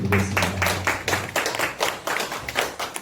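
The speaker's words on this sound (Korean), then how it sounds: "112년을 한결같이 지켜주신 하나님께 여러분 우리 감사의 박수 한번 올려드리겠습니다." A church youth-service congregation claps in thanks, a loud rhythmic run of unison hand claps at a brisk even beat, with a held musical tone fading out under the first few claps.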